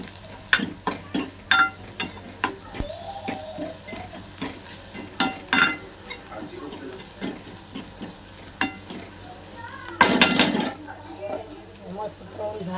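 Onion-tomato masala paste with coconut, ginger and garlic frying in oil for a brinjal-potato dry curry, with repeated sharp scraping stirs of a spoon in the pan over a steady sizzle and a louder burst of stirring near the end.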